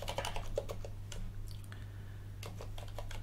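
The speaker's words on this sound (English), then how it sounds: "I have to type in my password" Fingers type rapidly on a computer keyboard to enter a password, producing a close run of crisp key clicks with a brief pause midway, over a steady low electrical hum.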